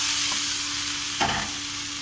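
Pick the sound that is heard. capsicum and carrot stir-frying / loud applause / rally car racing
capsicum and carrot stir-frying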